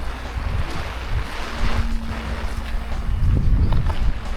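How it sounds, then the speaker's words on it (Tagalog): Strong gusting wind buffets the microphone at a campsite, a steady broadband roar with low rumbling swells, loudest near the end, with no talking. "Grabe yung hangin guys, oh."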